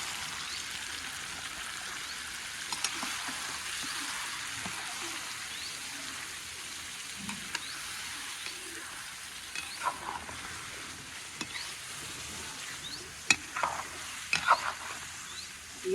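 Chicken and browned onions fry in a pan with ginger garlic paste for a chicken korma, giving a steady soft sizzle with occasional stirring clinks and scrapes, fairly quiet and close.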